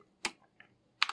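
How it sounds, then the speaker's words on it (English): Keystrokes on a computer keyboard while typing notes, a few sparse, separate clicks in quiet surroundings, close and fairly crisp. "And if we just start typing"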